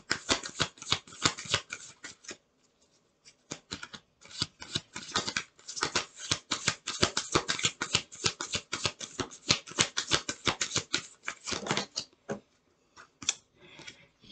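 Tarot cards being shuffled by hand, rapid riffling bursts of crisp papery flicks repeating in quick rhythmic runs, close and fairly loud, with brief pauses between rounds.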